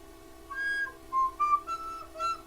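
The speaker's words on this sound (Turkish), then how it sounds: "Diye flüt çalıyordum." Flute played alone in a quiet room, a handful of short, soft breathy notes at varying pitches in a loose, halting melody.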